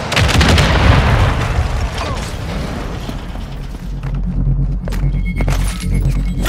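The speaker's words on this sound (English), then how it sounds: "Stun grenade out!" A flashbang stun grenade detonates in Call of Duty: Modern Warfare II, with a loud, close blast at the start that decays into a rumbling, ringing tail over several seconds of low battlefield noise.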